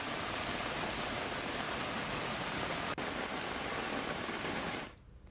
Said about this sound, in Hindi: आज दोपहर से एक बार फिर से तेज बारिश शुरू हुई है